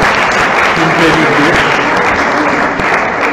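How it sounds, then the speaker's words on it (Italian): A crowd at a national party assembly gives loud, dense applause that holds steady the whole time. A voice is heard briefly over it. "un applauso alla par condicio"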